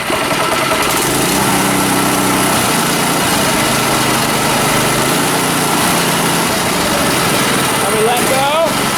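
Small Predator go-kart engine held at high throttle, a loud continuous buzzing drone that stays steady throughout and dips briefly near the end, recorded up close.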